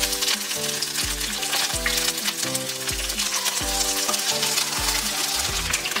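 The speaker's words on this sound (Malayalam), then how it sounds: "1 ടീസ്പൂൺ കടുക് പൊട്ടിയ ശേഷം നമുക്കതിലേക്ക് കറിവേപ്പില ഇടാം." Curry leaves hit hot oil with popped mustard seeds for a Kerala-style fish stew, giving a loud, steady sizzle and crackle close up, with no talking.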